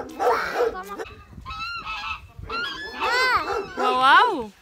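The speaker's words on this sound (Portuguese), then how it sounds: "vamos ver os gansos?" Geese honk loudly and close by in repeated, rising nasal calls, with a dog also present and people talking over them.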